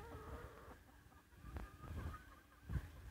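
Chickens on a Vietnamese farm garden cluck faintly in short, scattered bursts over a quiet background, with a few sharper calls near the end.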